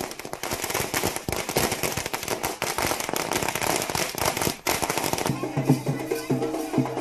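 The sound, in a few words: firecrackers bursting at a celebration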